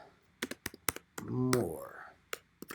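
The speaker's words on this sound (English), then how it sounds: "Sorry about my typing." Sharp, scattered taps on a computer keyboard sound close by, with a brief spoken phrase in the middle of the burst of keystrokes.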